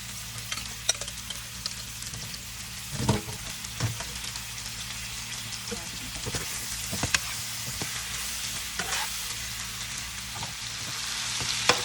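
Shrimp frying in a pan for a spicy garlic shrimp dinner, with a steady hiss of sizzling oil and occasional scrapes and stirring knocks scattered throughout, no voices.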